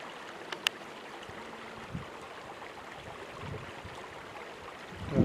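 Creek water flows with a soft, steady broadband rush, fairly faint and distant, with a couple of small clicks and no talking.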